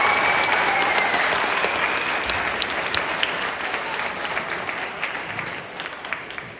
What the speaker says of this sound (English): How about another round of applause for Maddie Stein